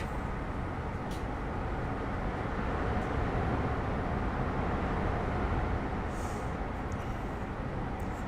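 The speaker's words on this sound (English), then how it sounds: "Oh, there's a train." A train passes in Train Sim World 3 on the Midland Main Line between Leicester, Derby and Nottingham, heard as a loud, steady rumble and roar that fills the whole stretch without letting up and with no talking over it.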